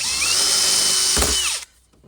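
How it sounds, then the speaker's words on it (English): A power drill whines steadily at close range, drilling out rivets on a Land Rover Discovery 2 TD5 centre console, with a brief bump partway through, then cuts off, leaving near silence. "So they drill out easy."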